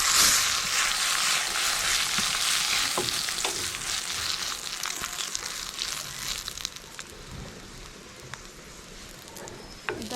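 Dry red chillies fry in hot oil for a cucumber huli saaru, giving a continuous close sizzle with scattered pops and crackles. The sound is loudest at first and eases gradually over ten seconds.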